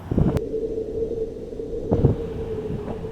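Strong cold wind blows across the exposed summit of Jabal Daka in Saudi Arabia, a steady low buffeting rumble with heavier gusts near the start and again about two-thirds through.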